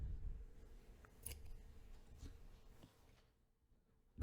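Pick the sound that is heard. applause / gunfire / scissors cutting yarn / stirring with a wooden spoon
scissors cutting yarn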